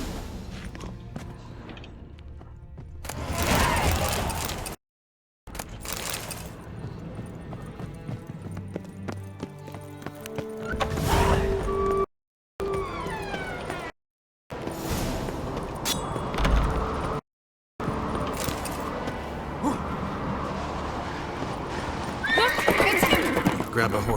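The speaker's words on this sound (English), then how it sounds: "Grab a horse, we'll chase him down." Horses in a video game set on Skellige neigh and whinny repeatedly while hooves clip-clop at a gallop, loud and close, broken by brief silent cuts, with characters talking over the action.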